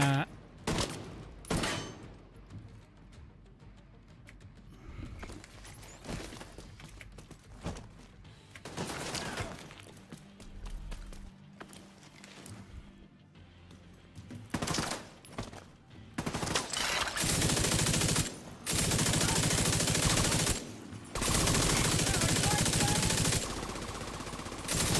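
A light machine gun fires in a video game: sharp bursts and rapid volleys of shots, some sparse early on and then long, loud sustained fire toward the end, with faint speech in places.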